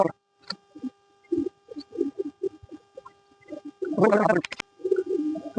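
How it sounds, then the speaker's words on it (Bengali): Bombay pigeons coo and scuffle close by while fighting, with soft repeated calls and a sudden burst of flapping wings near the end. "এই যে বোম্বাই কবুতর মারামারি করতেছে"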